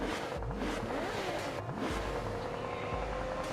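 Car engine in the mobile game PUBG Mobile, revving and accelerating steadily with rising and falling pitch sweeps, loud and continuous throughout without talk.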